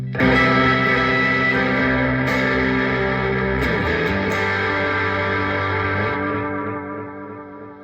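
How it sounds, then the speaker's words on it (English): A sustained distorted guitar chord rings out through an Electro-Harmonix Deluxe Memory Man analog delay pedal, echoing repeats blending with a hissy wash as it slowly fades. "You'll notice the analog hiss that's happening with the repeats, or just with the pedal in general."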